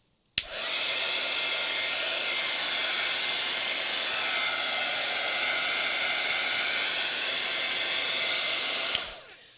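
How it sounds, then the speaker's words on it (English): A heat gun blows steadily to dry a wet mixed-media holiday tag, a loud continuous whooshing roar that switches on abruptly and runs for about nine seconds before cutting off. "So here comes the heat gun again."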